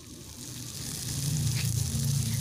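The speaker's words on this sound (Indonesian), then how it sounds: "Kita panggang sampai sosisnya matang." Sausages sizzle and fry steadily in hot melted margarine in a pan for sausage with black pepper sauce, a continuous close crackling hiss that grows slightly louder as the frying settles in.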